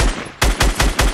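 Rapid gunfire from a Fortnite match: four sharp, loud reports in quick succession, evenly spaced about a fifth of a second apart, with no voices over them.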